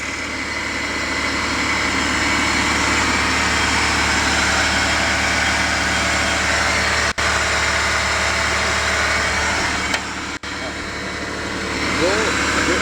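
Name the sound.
rebuilt Honda VTEC engine idling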